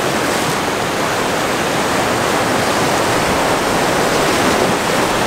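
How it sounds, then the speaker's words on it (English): Ocean waves roll in beside a lighthouse at blue hour, a steady, dense wash of surf and spray that stays loud and unbroken throughout, with no voices. "We've got some nice waves coming in now."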